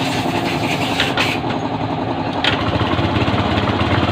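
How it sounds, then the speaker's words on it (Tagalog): A motorcycle engine runs at a steady idle right after a clutch damper repair, a close, loud, even chugging with no voices over it. "napaandar natin itong kanyang motor. Pakinggan natin at napansin ninyo, narinig ninyo yung andar ng kanyang makina."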